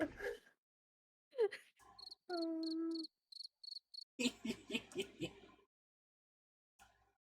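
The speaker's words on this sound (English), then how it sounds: "Someone hit the cricket in the soundboard." A soundboard cricket-chirp effect plays as a burst of short, rhythmic, high chirps with a steady buzzy tone mixed in. It is set among brief spoken fragments and noisy bursts, fairly quiet overall.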